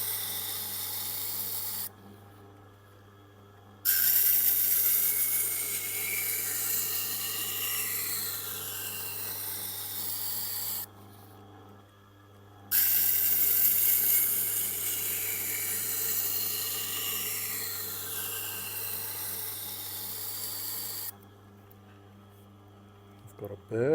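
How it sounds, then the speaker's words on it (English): A Tormek grinder does the first rough grind on a Huusk or Haako kitchen knife, a steady, close rasping whir in long sweeping passes, broken by a few short pauses. "it's the initial rough grind, and there's a long way to go"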